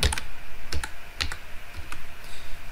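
Computer keyboard typing during a Canva design session, a quick burst of crisp keystrokes at the start followed by sparse clusters of clicks spread across the clip, close and clear with no talking.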